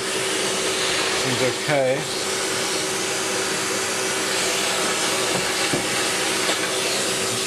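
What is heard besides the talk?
vacuum cleaner cleaning dust off an amp cabinet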